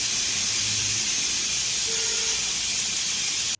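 Steam hissing steadily and loudly from a pressure cooker on a mud stove, cooking cauliflower and tomato, with a brief faint tonal whistle partway through, then cutting off abruptly.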